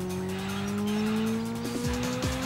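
Race cars launching off the starting grid for the extra race in the PlayStation game Ridge Racer: rising engine whines climb steadily in pitch, with brief tire squeals near the end, all fairly close and continuous.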